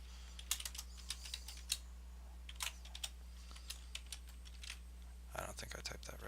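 Fingers type on a computer keyboard nearby, fast irregular clicks and taps that sometimes run in short bursts. A steady low hum sits underneath, and a denser flurry of keystrokes comes at the end.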